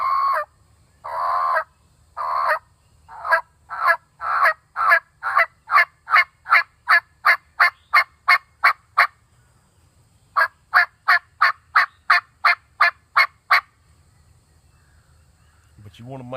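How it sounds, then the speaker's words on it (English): Turkey call working a yelp, high note dropping to low note, starting with slow, separate calls and then speeding into a long rapid series of sharp, loud yelps. After a short pause, a second fast run follows. "speed it up and turn it into a yelp"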